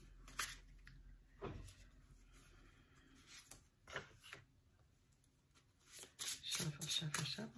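Oracle cards shuffled by hand, giving a few short papery riffles and soft rustling bursts spread through the clip, fairly close, with a quiet room behind.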